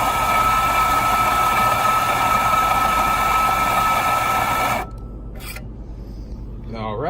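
An espresso machine's grinder grinds coffee for a double shot with a loud, steady whirring rasp for about five seconds, then cuts off into near silence with a few faint clicks.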